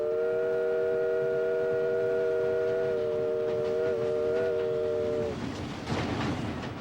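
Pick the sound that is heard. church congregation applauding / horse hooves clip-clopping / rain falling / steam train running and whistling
steam train running and whistling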